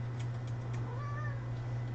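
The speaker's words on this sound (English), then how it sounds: "there's my little kitty." A pet cat gives one soft, short meow over a loud, steady electrical hum, with no talking.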